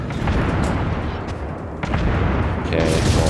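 Battleship main guns fire in World of Warships, heard as a few heavy booming blasts with rumbling tails that layer over continuous engine and sea noise, loud and close.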